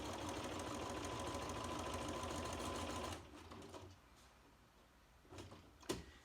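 Sewing machine stitching corner to corner across a quilt background square, a steady, loud mechanical whir for about three seconds before it stops, followed by faint handling noises and a brief sharp click near the end.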